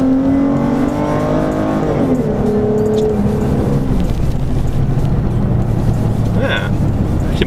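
A 2014 Dodge Charger SXT with a muffler delete revs, its loud, raw exhaust rising and falling in pitch, while people talk over it throughout.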